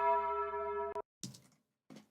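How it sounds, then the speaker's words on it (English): Tubular bell sample played in Ableton, a single bright sustained tone ringing for about a second before being cut off, followed by a few short soft clicks. "tubular bell sample"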